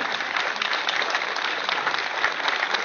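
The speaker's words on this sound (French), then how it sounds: "on peut les applaudir" Steady, dense applause from an outdoor crowd at a village patronal festival in Saint-André-les-Alpes, thanking the festival committee, sustained and even throughout without any talk over it.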